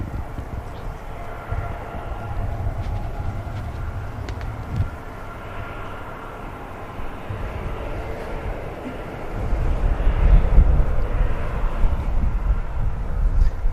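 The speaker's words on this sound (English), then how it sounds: "ATR gliding off, 23 left." An ATR turboprop airliner takes off from runway 23 left at Manchester Airport, a distant low engine drone that builds into a stronger rumble toward the end, with faint background noise.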